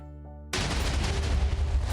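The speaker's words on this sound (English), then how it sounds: "Okay, explosion goes off." An explosion goes off in the Minecraft-style game Larpcraft. After half a second of quiet, soft tones, a sudden loud blast bursts in and rolls on as a dense, roaring rumble.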